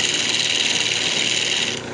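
A fingernail gouge cuts purpleheart wood spinning on a lathe while a small pendant is turned: a continuous, even, bright hiss and rasp with a steady drone beneath, close and loud, easing slightly near the end.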